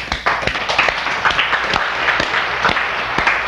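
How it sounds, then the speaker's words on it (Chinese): Audience applause at a Chinese Lunar New Year comedy talk show, a dense patter of many hands clapping steadily and fairly close for a few seconds, with no talk over it. "来，大家鼓掌，好不好？"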